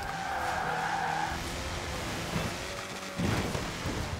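A slow D-class car skids through a corner in Forza Horizon: a steady tire squeal over continuous engine and road noise, with a sharper scrape or thump near the end, no talking.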